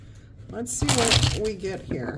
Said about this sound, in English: I've got to shuffle the rest of the cards here.